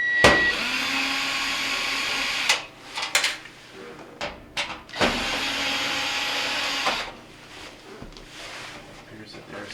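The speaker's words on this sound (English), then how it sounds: "I'm going to go ahead and remove the screws here and go ahead so I can access that." Phillips screws being backed out of a panel on a Whirlpool stove during repair: bursts of electric screwdriver whirring, each a few seconds long, with brief metallic clicks and handling between them, close and fairly loud.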